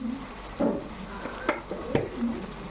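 Broad beans cooked with egg sizzle softly in a pan while a spoon stirs them, with a few sharp scrapes and clinks against the metal over a low frying hiss.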